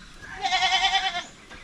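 A goat bleats once in a long, wavering cry on a small backyard farm where goats are kept for milk. The call is close and fairly loud, with quiet surroundings before and after.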